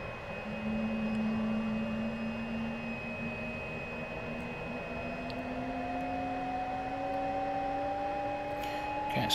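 A simulated Fouga CM.170 Magister jet engine spools up during a cold start in Microsoft Flight Simulator, a steady whine that slowly rises in pitch over a constant airy rush, fairly quiet and with no voices.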